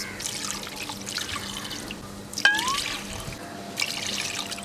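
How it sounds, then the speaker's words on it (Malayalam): Water is poured into a pressure cooker while chicken mandi is being prepared, giving a faint, thin trickle and splash with one brief sharper drip near the middle. "ഒരു മൂന്ന് കപ്പ് വെള്ളം ഒഴിച്ചു കൊടുക്കാം"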